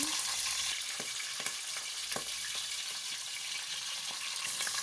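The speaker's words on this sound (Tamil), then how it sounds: "அடுத்து இந்த பட்டை, சோம்பு, பிரியாணி இலை, பச்சை மிளகா போட்டுக்கோங்க தேவையான அளவு." Cinnamon, fennel seeds, bay leaf and green chili fry in hot oil, making a continuous close sizzling hiss with a few faint clicks and taps from the pan.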